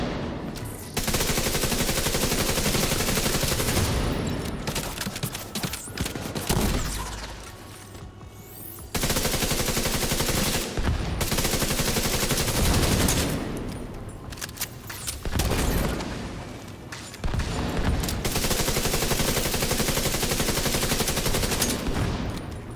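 Sustained bursts of automatic gunfire in The Division 2 zombie-like mode, dense and loud, coming in long stretches broken by brief lulls, with overlapping shots and a distant boom.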